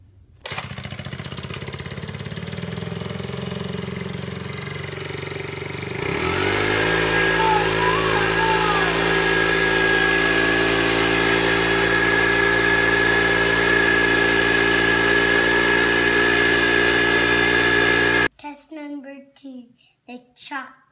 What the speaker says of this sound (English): Test one, the extreme leaf blower.